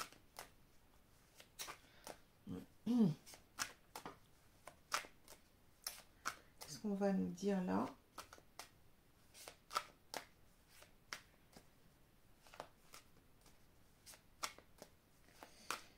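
Oracle cards are shuffled by hand in crisp, rapid riffles and soft slides. They come in two short bursts with light tapping between them, and someone briefly speaks in French.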